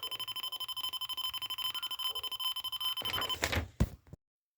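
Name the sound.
microcontroller board loudspeaker beeping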